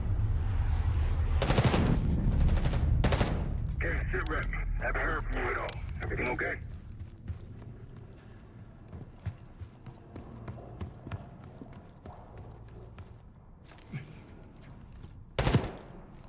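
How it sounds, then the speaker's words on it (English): Sharp bursts of gunfire crack out early on, then a voice speaks over a low hum, with a few more scattered shots near the end. "You hearing gunfire?"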